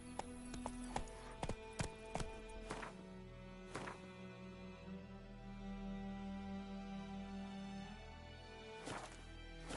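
Hooves of the horse Roach clip-clop in a PS4 video game, a rhythmic trot of clear, fairly close hoofbeats over quiet ambience.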